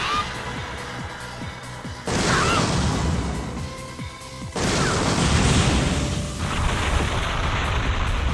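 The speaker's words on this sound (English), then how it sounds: "Since he's weak to fire, I can actually use Graviton Bomb," A Graviton Bomb fire attack lands in the Disgaea strategy RPG, a series of heavy booming crashes and whooshing blasts in two loud surges, with low rumbling impacts throughout.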